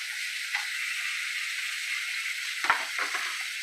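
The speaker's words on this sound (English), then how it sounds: "Because you want that meat to get a nice sear on it." Meat searing in a hot cast iron skillet, a steady bright hiss of frying fat held at an even level, with a couple of brief soft clatters near the end, close and alone.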